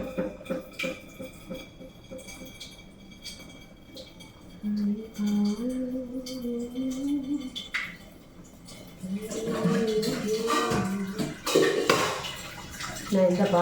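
Water is poured into a pot while rice is cooked the traditional way, with splashing and metal pots clinking, while a person talks over it.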